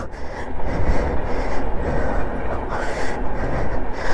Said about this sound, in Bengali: ডান সাইডে চলে আসে ট্রেন